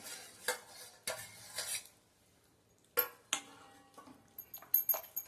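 Dal poured into a pot for traditional bisi bele bath and mashed, with metal utensil clinks and scraping strokes in bursts, a quiet pause midway, then further sharp clatters and stirring near the end.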